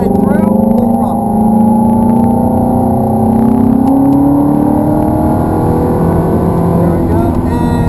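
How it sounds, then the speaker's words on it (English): Ferrari 430 accelerating at full throttle on a race track, a loud engine whose pitch climbs steadily through the revs, with a person talking over the roar. "we'll accelerate through, full throttle"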